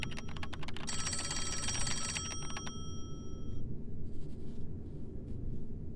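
In the video game NiBiRu, a phone ringing tone sounds in rapid repeated electronic trills for a few seconds, then stops, leaving a low steady background hum.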